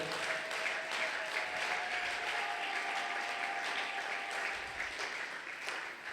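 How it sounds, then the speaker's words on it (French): Church congregation at a Sunday thanksgiving and praise service applauding and cheering, a steady wash of clapping and crowd noise heard from a distance at moderate volume without pause. "Est-ce que tu peux acclamer très fort?"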